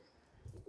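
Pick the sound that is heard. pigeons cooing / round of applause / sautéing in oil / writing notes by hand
pigeons cooing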